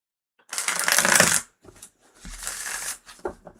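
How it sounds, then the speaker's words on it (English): Tarot cards are shuffled by hand in two close, crisp riffling bursts followed by a few soft taps as the deck settles. "It just means it needs more shuffling."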